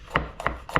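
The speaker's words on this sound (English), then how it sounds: "I'm just chopping it roughly here." A knife chops garlic roughly on a cutting board in three crisp, evenly spaced strokes, close and clear with no talking.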